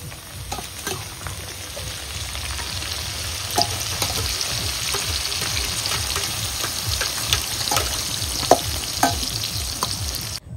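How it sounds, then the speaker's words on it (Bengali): Sliced onions deep-frying into birista for chicken biryani, a dense, crackling sizzle with bubbling pops and occasional stirring clinks, steady and close, with no voices. "বেরেস্তাটা এবার আমরা ভেজে নেব।"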